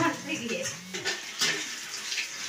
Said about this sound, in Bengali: বাসন মাজা হয়ে গেছে এবার ধুয়ে নিই